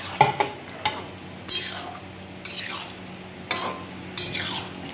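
Paneer and vegetables frying in a pan for a mixed veg paneer dish, with a continuous sizzle and several scraping spatula stirs spaced about a second apart, close and clear, with no talking.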